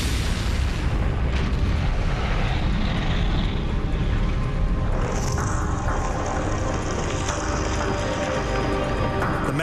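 A gasoline-filled underground storage tank explodes in a neighborhood, sending a fireball over 300 feet high. A dense, loud roaring blast rumble fills the whole stretch, and a hissing, whooshing layer swells in midway and holds to the end.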